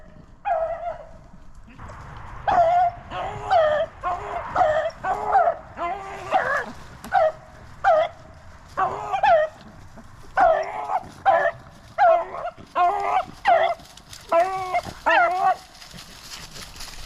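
Hunting dogs barking while chasing a rabbit in Pennsylvania, a run of sharp, repeated barks in bursts at close to moderate distance, with a faint voice now and then.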